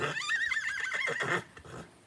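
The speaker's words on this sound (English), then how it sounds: "Uh-oh, my horse got loose." A horse in a barnyard lets out a loud, close whinny with a wavering, shrill neigh lasting over a second, trailing into softer snorts and breaths, with no talking.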